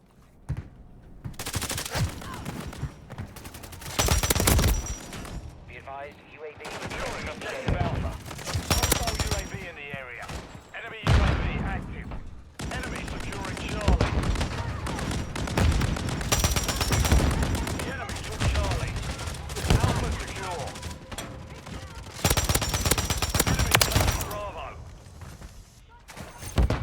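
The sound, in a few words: gunfire in video game Call of Duty MW3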